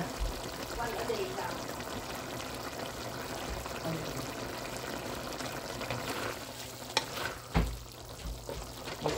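Pork igado bubbling and sizzling in a pot, a steady simmering hiss with a few sharp clatters near the end; a voice murmurs faintly underneath.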